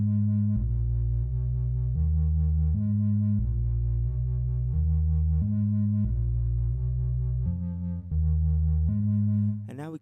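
Synthesized evolving pad built in Reaktor with reverb, sustained chords shifting every second or so in a steady repeating pattern, loud and continuous with no talk, ending in a brief bright sweep.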